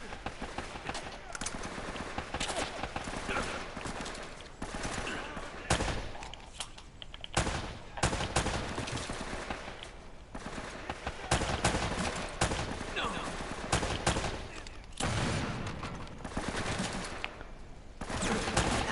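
Gunfire in the video game Uncharted: Drake's Fortune, repeated shots and bursts in an ongoing firefight with game sound effects filling the scene, loud throughout.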